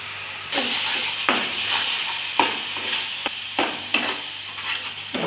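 Paneer tikka masala gravy is stirred by hand in a pan, giving repeated scraping strokes about once a second over a faint sizzle, close and moderately loud, with no talking.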